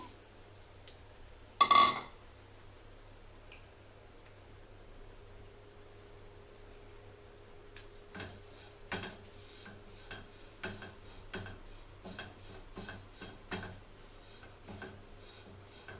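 Flattened rice (poha) frying in a pan, heard as soft scraping and rattling stirs in a rapid irregular rhythm that begins halfway through, after one sharp clatter of a utensil, fairly quiet and close.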